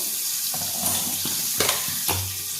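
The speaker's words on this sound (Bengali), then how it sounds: "যতক্ষণ মাছটা ভাজা হচ্ছে" Fish frying in a pan gives a steady close sizzle. Several short clinks and scrapes of a utensil punctuate the frying, and no voices are heard.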